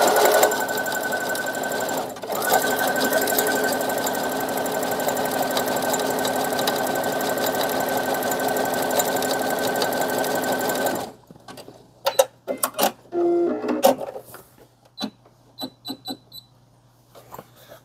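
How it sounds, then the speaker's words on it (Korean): A sewing machine runs a zigzag stitch along a fabric edge with little seam allowance, used in place of overlock to stop fraying. It gives a steady close whir for about eleven seconds, then stops, followed by scattered clicks and handling noises. "오버로크 말고 뭐 지그재그 스티치라도"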